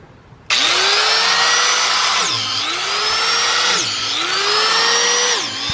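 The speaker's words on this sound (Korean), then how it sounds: "나무에 드릴로 구멍을 뚫러서 종균을 넣는 법을 한번 보여드리겠습니다" A power drill bores holes into a wooden log for inoculating mushroom spawn, starting abruptly and whining loud and close, with the motor pitch dipping and recovering in three cycles as the bit bites into the wood.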